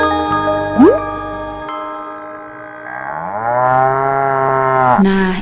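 A cow moo from an Indonesian educational farm-animal spelling toy, a single long sustained electronic moo lasting several seconds after a short chime, loud and close with no talking over it.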